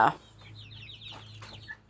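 Bantam chickens cluck in a backyard homestead pen: a short run of soft, quick, chirpy clucks, fairly close but quiet, lasting under two seconds.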